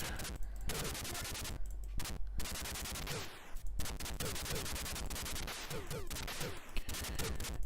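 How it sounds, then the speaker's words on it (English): Machine gun fire from the Atari ST game Operation Thunderbolt rattles in rapid, thin bursts broken by brief pauses. Digitized shots and effects keep it loud and busy from start to end. "that machine gun sound in particular is pretty pathetic"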